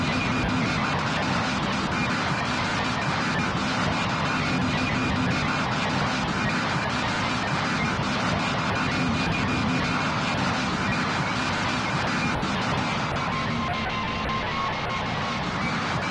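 Continuous loud airplane engine roar in the Roblox flight game PTFS, a dense steady drone that holds unchanged throughout with no talk.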